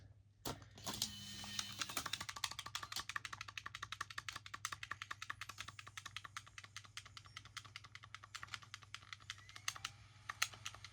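Repeated sharp clicking and clacking from a faulty Wii console disc drive under repair, a fast irregular run of close, crisp ticks over a steady low hum for about eleven seconds.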